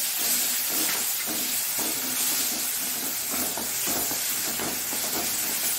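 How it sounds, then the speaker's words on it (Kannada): Chopped tomato fries in a hot pan for Mangalore coconut milk rasam, giving a loud, continuous close-up hiss and sizzle with faint stirring movement. "ಈಗ ಈ ಹೆಚ್ಚಿಟ್ಟಂತಹ ಒಂದು ಟೊಮ್ಯಾಟೊವನ್ನು ಹಾಕೊಳ್ಳೋಣ"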